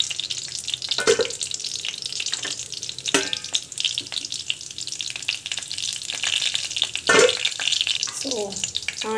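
Mustard seeds crackle and sizzle in hot oil, close and fairly loud, with scattered sharp pops and utensil knocks breaking through a continuous frying hiss.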